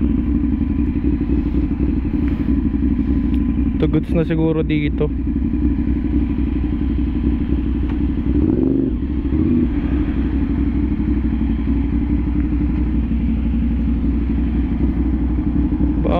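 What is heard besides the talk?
motorcycle being parked on a Manila street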